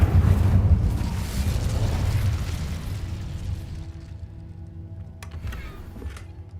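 An Incendio fire spell cast in Hogwarts Legacy: a loud, deep fiery burst up front that roars and slowly fades over several seconds, followed by a faint crackle and small clicks.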